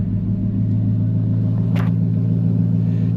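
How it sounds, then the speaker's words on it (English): A car with a Ford Coyote engine idles and rolls off for a drive around the block, a steady deep rumble close by with a brief light click midway. "We'll just go for a little drive around the block, just enough to show you the speedometer does work."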